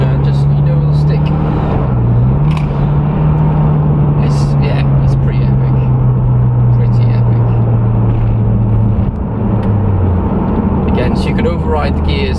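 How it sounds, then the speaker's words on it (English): Loud, steady in-cabin engine drone and induction roar from a 2011 Mitsubishi Evo X FQ300 SST under way, its pitch dropping abruptly twice as quick gear changes snap through over about twelve seconds. "Don't know if you can hear that, but instant gear change. Yeah, that induction noise is so..."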